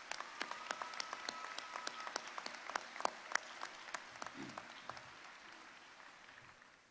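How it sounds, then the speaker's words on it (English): A crowd at a university commencement ceremony applauds steadily, many hands clapping at once, then the clapping gradually thins and fades toward the end. "another round of applause."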